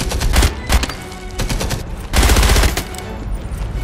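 Rapid bursts of automatic gunfire in the video game Enemy Front, a WWII assault, with loud close volleys separated by brief pauses.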